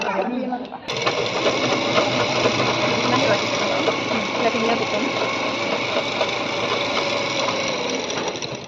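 An electric sewing machine with a 3-in-1 presser foot runs steadily for several seconds after a brief start, its loud, even mechanical whir continuing with a voice underneath.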